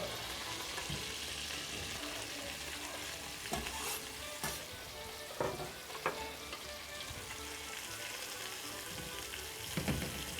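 Onion and rabbit meat frying together in a pan, a continuous soft sizzle with several sharp scrapes and clacks of stirring, quiet and close, with no one talking.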